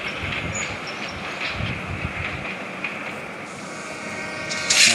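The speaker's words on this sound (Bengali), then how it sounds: "ট্রেন ছেড়ে দিছে।" A train in a video game rolls along with a steady rumbling clatter and a hissing wash, ending in a brief brighter screech near the end, with no voices over it.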